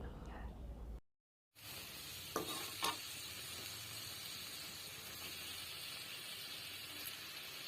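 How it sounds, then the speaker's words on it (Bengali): Bottle gourd goes into a pan of frying taki fish, giving a steady soft sizzle and hiss with a couple of brief clatters from stirring, fairly quiet and close. "তো মাছটা কষা নেওয়ার পরে আমি লাউটা দিয়ে দিচ্ছি।"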